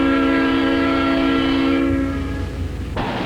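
A great train speeds along while its horn blows a long, loud, sustained chord that cuts off, followed by a steady rushing rumble of the train passing close by.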